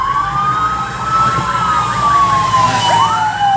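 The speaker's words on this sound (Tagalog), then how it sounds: "Nandito pa rin tayo sa likod ng Nuvali Fire Truck" A fire truck siren wails loud and close during a fire prevention month parade in Santa Rosa, Laguna, a sustained rising and falling tone over engine rumble and street noise.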